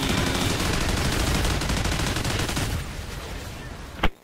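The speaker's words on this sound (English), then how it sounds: "I'm shooting up all the aliens" Rapid, loud gunfire in Call of Duty Ghosts Extinction mode, fired at aliens, sounds as a dense continuous burst that tapers off, ending with one sharp final shot.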